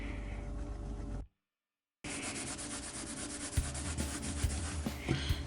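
Scratch cover being buffed into a laminate floor by hand, a steady close rubbing and scrubbing that runs continuously, breaks off into a short silence, then resumes with occasional harder thumps.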